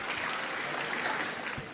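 Sustained applause from a mushaira audience in Dubai welcomes poet Rubina Ayaz, a steady dense wash of clapping heard alone from start to finish.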